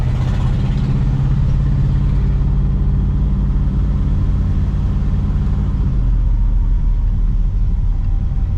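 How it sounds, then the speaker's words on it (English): A hoodless barn-find 1964 Pontiac Catalina drives along, its engine giving a loud, continuous low rumble that holds steady throughout, with a slight shift in tone near the end. "There's something that feels so American driving around one of these old Pontiacs without a hood on it."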